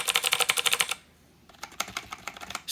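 Rapid keystrokes clatter on a Qwecfly gaming keyboard, a quick burst, a brief pause, then another run of lighter taps, close and crisp.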